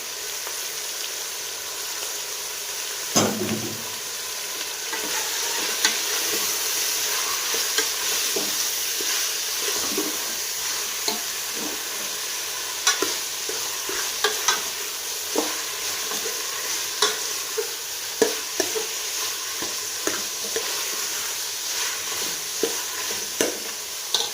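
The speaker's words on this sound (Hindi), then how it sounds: "तो कीमे को हमने 4 से 5 मिनट तक अच्छे से इस तरह से भून लेना है।" Minced meat keema stir-fried with tomatoes in a pan, a steady close sizzle broken by frequent scraping stirs and clinks of the spoon over about twenty-four seconds, with no voices.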